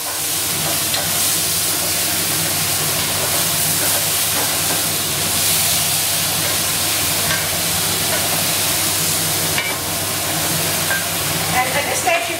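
Crispy battered pork is stirred through sweet and sour sauce, a continuous loud hissing sizzle and bubbling with steady stirring and some talk over it.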